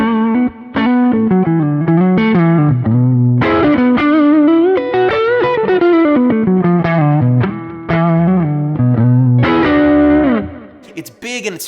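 An electric guitar on its neck pickup, run through a Kemper amp, plays a loud, fluid single-note lead phrase with distortion, chorus and echo effects, notes sliding and sustaining for about eleven seconds before cutting off.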